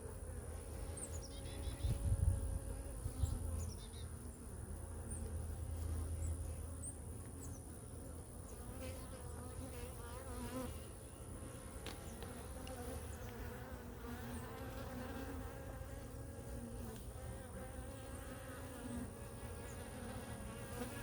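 Honey bees buzz steadily around an open hive while the queen moves among them, a dense continuous drone close by that holds at an even level throughout, with no talking.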